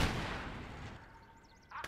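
A heavy artillery blast in the World War II game Gates of Hell: one loud boom rolls off into a long fading rumble, then a sharp second report cuts in near the end.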